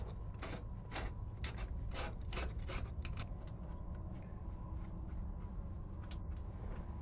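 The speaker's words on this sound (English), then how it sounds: "I'm going to take a screwdriver here and scrape this grease off of this compartment" A screwdriver scrapes old grease off the compartment lid of a swing gear drive, giving repeated short rasping strokes over a steady low background hum. The strokes are dense early on and thin out later.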